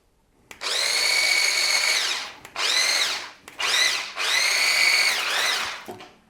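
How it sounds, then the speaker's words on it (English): An electric mixer whisks an orange flan mixture in several loud, close whirring bursts, with short stops between them and speed dips at each start and stop, and no voices over it. "I'm whisking that gently"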